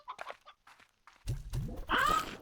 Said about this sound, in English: I'll give him a rooster,